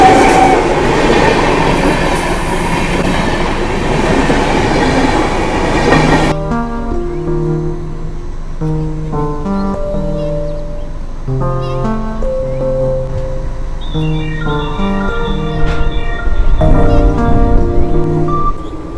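The Jamnagar Express runs on its rails with a loud, steady rumbling roar for several seconds, after which music takes over with the train noise low beneath it.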